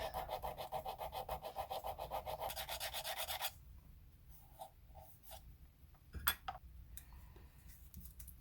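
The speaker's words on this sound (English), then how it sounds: "The old guitar block here. We'll just file it roundly." A round file rasps back and forth across an old wooden guitar block, rounding it off. For about three seconds the strokes are steady, scratchy and close, then softer scrapes and taps follow.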